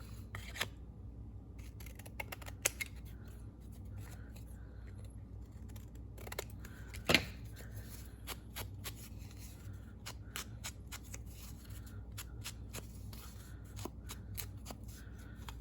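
Scissors snipping through embossed paper craft material indoors, a few soft, sparse snips and light rustles spread over a quiet background, with one sharper cut standing out near the middle.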